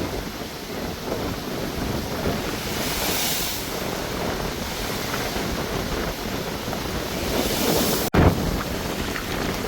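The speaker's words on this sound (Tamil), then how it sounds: "பாருங்க எவ்வளோ காற்று தாண்டவம்." Strong storm wind and heavy sea waves on the coast at Jaffna, a loud continuous roar of gusting wind buffeting the microphone over crashing surf, with one sharp thump near the end.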